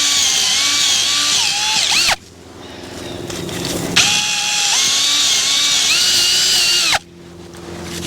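A power drill whirs loudly in two long bursts with a short pause between them, its pitch shifting as it bores into garden soil.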